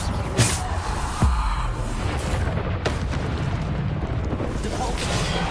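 A Bombarda blast spell goes off in Hogwarts Legacy, with sharp booming impacts over steady combat noise and rumble.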